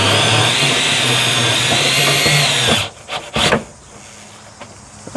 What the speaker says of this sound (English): so then we can grab our drill and we're going to tighten her down